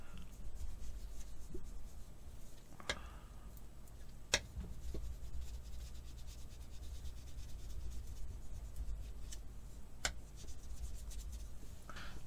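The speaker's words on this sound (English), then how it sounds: "And then this is where the bone tool comes in right here. You just need to push it down onto the paper very firmly." A bone folder is pressed firmly and rubbed across paper during paper restoration, giving a quiet, steady scraping with a few sharp little ticks, close and alone.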